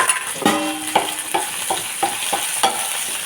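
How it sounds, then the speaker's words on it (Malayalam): Chopped small onions sautéed with salt in a pan, a loud continuous sizzle broken by repeated scraping strokes of a spoon against the metal, close up and without speech. "ഇളക്കി വഴറ്റിയെടുക്കും"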